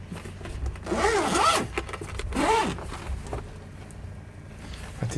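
A zipper on a small bag opening, two drawn-out rasping pulls close by, each about a second long, followed by quieter handling noise.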